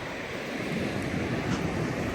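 Ocean surf rolls onto a beach along the coast between Mexico and San Francisco as a steady, broad wash of breaking waves with wind buffeting the microphone throughout.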